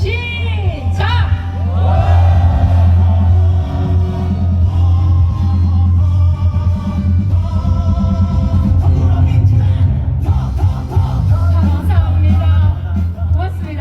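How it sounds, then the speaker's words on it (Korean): A large political rally crowd in Korea cheers and shouts as a wave sweeps from the front row, a loud sustained roar of voices with whoops rising and falling throughout. "맨 앞줄부터 함성과 함께 파도"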